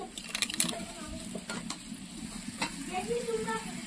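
Sautéed vegetables in a pan over a wood fire give a soft, low sizzle after water is added, with scraping stir clicks near the start.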